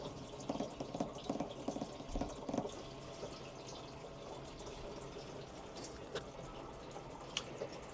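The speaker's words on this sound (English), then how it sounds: "I just turn that, and that regulates how much water's going through" Water runs steadily through a regulator valve in a converted van, a faint continuous hiss and trickle with a few soft clicks near the start.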